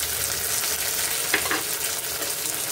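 Chopped onion, tomato and capsicum frying in a pan, a continuous bright sizzle with a brief stir or spatula scrape partway through.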